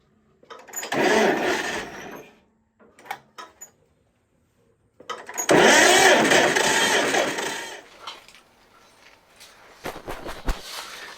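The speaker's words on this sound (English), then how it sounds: "let's see if we can get this tractor to run." A 1948 John Deere Model A tractor engine being cranked to start; two long bursts of loud cranking churn, separated by quiet gaps and a few clanks, followed by fainter mechanical knocks near the end.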